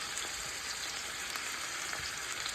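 Boiled, softened Brussels sprouts sizzle in a pan on low heat, a dense, steady crackle heard close up with no voices.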